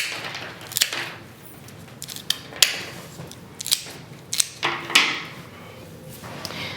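Scissors or shears snip through bouquet flower stems, cutting them short: a string of sharp, close clicks and crunches at uneven intervals, with quiet pauses between cuts.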